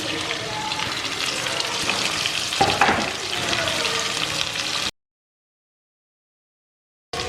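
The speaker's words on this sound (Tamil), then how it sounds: "வெங்காயம் சாஃப்டாக வதங்கணும்" Three large chopped onions sauté in a pan over tempered spices for a mutton coconut-milk curry, a steady close sizzle with a brief clatter midway before the sound cuts to silence near the end.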